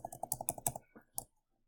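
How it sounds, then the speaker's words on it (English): Fast keystrokes on a computer keyboard, a quick run of crisp clicks for under a second followed by a couple of isolated taps, close and clear with no talking. "Let's say I'm typing and whatnot."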